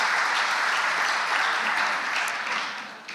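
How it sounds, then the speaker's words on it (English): A crowd at a Hall of Fame ceremony claps warmly and evenly, a full, sustained round of applause that tapers off near the end. "Please give them a round of applause."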